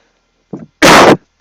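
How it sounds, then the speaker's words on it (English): A single harsh cough, preceded by a short throat sound, abrupt and close with silence around it. "Sorry, I apologise for the cough."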